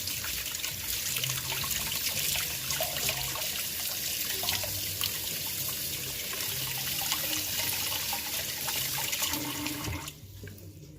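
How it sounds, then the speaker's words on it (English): Hands being washed under a running kitchen tap, a steady close rush of water splashing into the sink for about ten seconds before the flow is shut off, with no talking. "Let me wash my hands."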